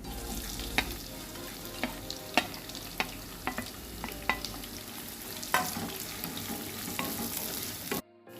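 Onion fries in oil in a kadai after whole spices go in, a moderate sizzle punctuated by sharp, regular spoon knocks and scrapes, then it cuts to silence near the end.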